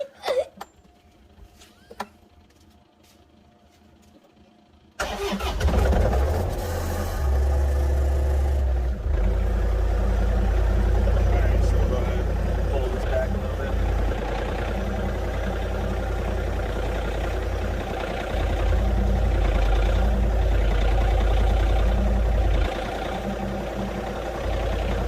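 A John Deere compact tractor engine from the 2 series lineup, such as a 2520 or 2320, starts abruptly after a few clicks, then idles loudly and steadily up close with a low, even rumble.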